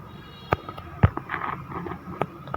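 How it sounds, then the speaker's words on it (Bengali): Minecraft creeper blowing up inside a cave, a sharp low burst near the middle standing out among several smaller pops and clicks from gameplay. "ক্লিপারটি ব্লাস্ট হয়ে গেল।"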